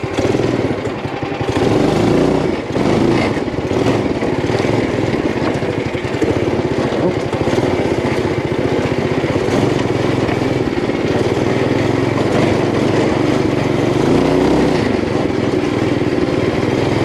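A Dingo 420 compact loader's engine drones steadily and loudly as the machine spins a donut over bumpy ground, the motor's tone wavering slightly under load throughout.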